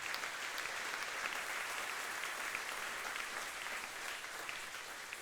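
A church congregation applauds and cheers the word of God during an evening intercession service, a steady, dense burst of clapping that fills the room evenly without a break.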